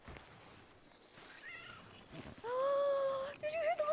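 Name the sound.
cat meowing in video game (RedM WildRP)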